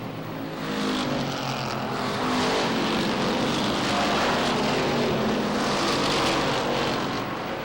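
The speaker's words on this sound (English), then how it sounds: "Car smoking through the turns, Glenn Griswold Jr. in car number 60." Late model race cars roar around Waterford Speedbowl during a 1993 Late Model 50 race, their engines a loud, steady, continuous drone as the pack runs through the turns.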